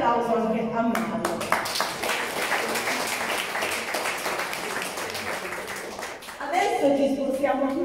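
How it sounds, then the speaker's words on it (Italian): A crowd at a Christmas party breaks into sustained applause and clapping that fills the room, with voices mixed in. The applause thins near the end before talk and cheering swell again. "un grande applauso anche a Mario"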